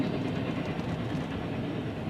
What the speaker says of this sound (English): there's a train going down the track